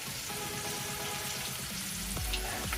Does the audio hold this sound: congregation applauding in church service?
no